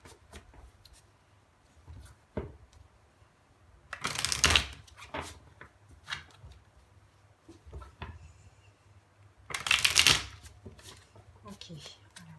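Tarot cards are riffled and shuffled in two short, bright bursts, with softer card handling and taps in between, close up under a woman's intermittent French speech.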